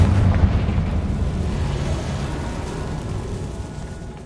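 A Confringo fire-blast spell explodes in Hogwarts Legacy, a loud deep boom that rumbles and slowly fades over several seconds.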